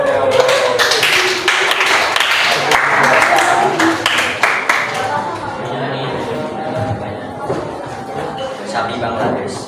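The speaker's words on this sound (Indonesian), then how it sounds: "Beri tepuk tangan" Classmates applaud a student group about to present in a sociology class, loud scattered claps and tapping mixed with chatter, tapering off as talking takes over.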